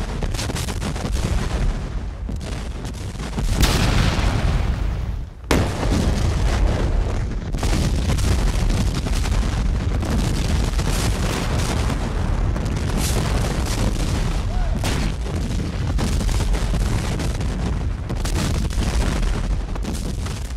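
Continuous heavy artillery bombardment in a Civil War battle at Gettysburg, with dense, overlapping booms and blasts rolling on without let-up, loud and close, plus a sharp dip and restart partway through.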